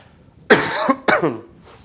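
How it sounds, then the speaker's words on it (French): Two harsh, raspy coughs in quick succession from a sick man, close and loud, followed by a faint breathy exhale. "je vais tousser de temps en temps."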